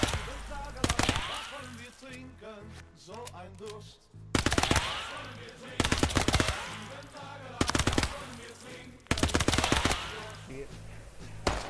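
Automatic weapons fire in rapid bursts in the World War II video game Gates of Hell: Ostfront, four loud, close volleys separated by short gaps, while someone talks over the shooting.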